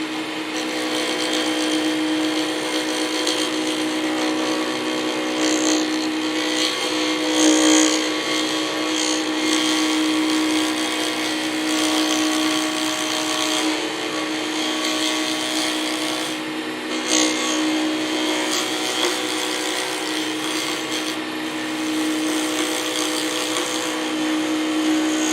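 A Record Power Herald wood lathe runs steadily during pen turning with Fordite, giving a continuous motor whine and hum that stays constant and fairly loud throughout, with no talk.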